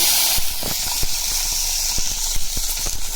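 Green chillies fry in hot oil in a pan as part of making an ivy gourd and amaranth chutney. The steady loud hiss is broken by sharp, crackling pops and spits, and no one speaks.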